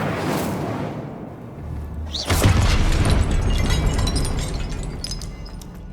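An Incendio fire spell is cast in Hogwarts Legacy, a sudden whooshing burst with a deep boom and crackling flare that settles into a roaring fiery rumble lasting several seconds.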